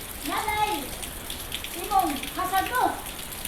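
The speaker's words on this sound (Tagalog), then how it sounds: "dumating na talagang ulan" Steady rain hisses in the background ahead of an approaching typhoon while a voice talks over it.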